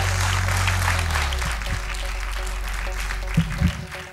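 Sustained audience applause for a singer on the X Factor TV talent show, a loud, dense wash of clapping that fills the hall throughout, with a low hum underneath and a couple of brief thumps near the end.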